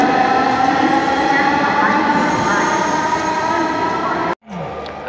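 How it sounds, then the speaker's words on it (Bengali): Metro rail train in motion, a loud steady rumble with layered wheel whine and squeal from inside the car, cutting to a brief near-silence before resuming. "আজকে লাইভে ফার্স্ট মেট্রো রেলে উঠলাম"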